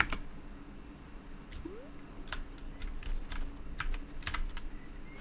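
Computer keyboard keys are pressed while playing a game, giving a scattered series of soft, close clicks and taps over a low background hum.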